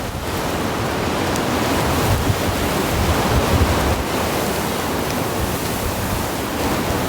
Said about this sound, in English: The wind's just gushing so fast.